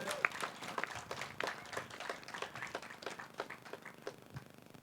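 Guests at a wedding ceremony give the couple a round of applause, heard as scattered, fairly quiet clapping with uneven individual claps that thins out toward the end.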